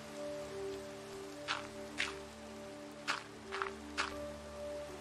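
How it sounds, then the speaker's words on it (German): Steady rain patter in Minecraft with a few louder drops or splashes standing out at irregular moments, alongside a constant hum of game background tones. "es regnet immer noch"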